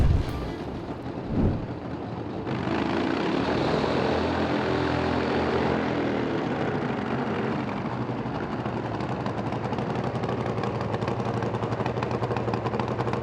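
A nitro-burning Top Alcohol dragster or funny car at an IHRA Outlaw Nitro Series event in Milan, launching hard with flames from the pipes; a loud, sustained broadband roar fills the whole run after a brief rev and bang at the start.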